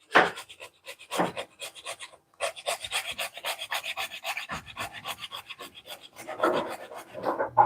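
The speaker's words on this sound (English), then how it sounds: "I'm going to use my trusty zester" A nutmeg is grated on a zester in quick rasping strokes, close and distinct, in rapid repeated bursts with brief pauses between runs.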